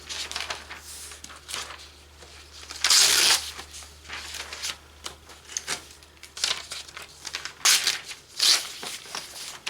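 Sheets of paper are handled and crinkled close up, with a run of irregular rustling, crumpling and shuffling noises and a few sharper crackling bursts, no talking.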